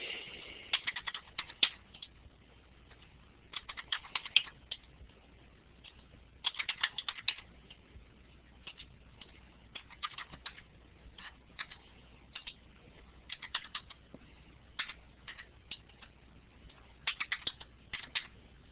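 Button presses on a calculator during a statistics lecture come in short bursts of quick, light clicks with pauses between them, moderately close, with no one talking.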